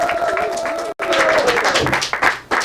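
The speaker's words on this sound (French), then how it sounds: "quelques applaudissements quand même s'il vous plaît" A crowd at a French gaming event opening claps briefly, mixed with voices, cut by a sudden short silence before the clapping and chatter resume.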